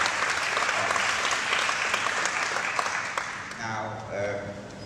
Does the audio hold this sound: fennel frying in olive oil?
no